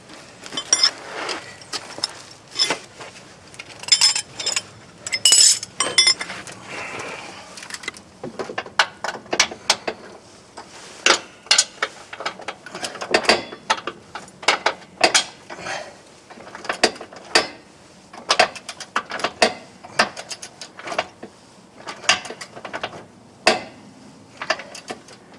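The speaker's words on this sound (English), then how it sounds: "we're going to come in here now and just torque this to 117 foot-pounds" Torque wrench clicking and ratcheting while tightening the rear bolt of a front lower control arm on a 2001 Buick Park Avenue to specification; sharp, close metallic clicks in irregular bursts throughout, with no talk.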